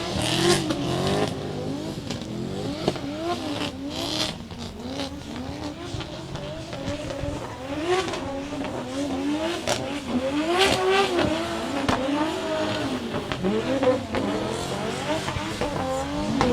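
Drift cars battling in a competition run at Meremere on a dirt-trenched track, engines revving hard and rising and falling in repeated sweeps, loud and close for the whole stretch.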